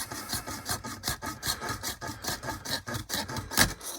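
A hobby blade rasps back and forth through a resin model car kit in quick, regular scraping strokes, close and fairly quiet, with no talking.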